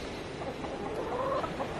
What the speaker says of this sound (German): wir haben einen neuen Hahn. Da hinten läuft er rum.